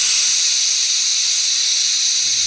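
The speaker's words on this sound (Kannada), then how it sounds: "ಅನ್ನ ಅರ್ಧ ಬೆಂದಾಗ ಕುಕ್ಕರ್ ಮುಚ್ಚಳ ಮುಚ್ಚಿ 1 ವಿಷಲ್ ಕೂಗಿಸ್ಕೊಳ್ಳಿ." A pressure cooker whistle vents steam while rice cooks, a loud, steady hiss held throughout the short stretch with no other sounds.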